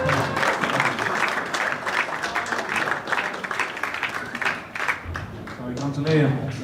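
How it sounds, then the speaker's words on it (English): Audience applause at a GB9 Tour pool tournament in Redhill fills the room steadily for several seconds, dense and continuous, with voices talking over it and a slight dip near the end. "round of applause for Mark."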